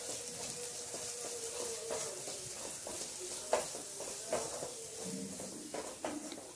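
Ground masala frying and being stirred in a pan for an Andhra fish curry, a soft steady sizzle broken by scraping spoon strokes and light clinks, close and fairly quiet.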